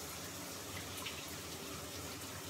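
Shower water running steadily in a bathroom, a continuous even hiss of spray and splashing with no voices.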